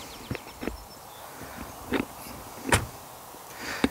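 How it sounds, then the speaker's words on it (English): Several short thuds scattered over a few seconds, one sharper solid slam of a 2020 BMW 740i car door standing out, against a quiet background with faint rustling. "let's check out the sound of the closing door."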